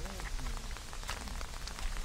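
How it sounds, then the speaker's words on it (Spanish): Rain beginning to fall at an old Templar site in Portugal, a light, irregular patter of drops striking surfaces near and far, with soft background noise and no clear speech. "Y ya se llegó la lluvia"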